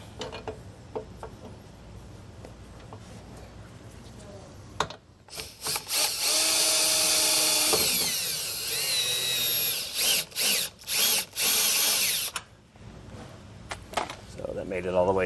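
A power tool drives a bolt, not self-tapping, through a paint-coated leaf spring mount during a Roadmaster Comfort Ride suspension install, running in a long continuous whir and then several short bursts, loud and close after quiet talk.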